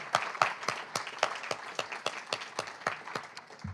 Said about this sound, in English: One more big round of applause for Rodrigo and for Fernando.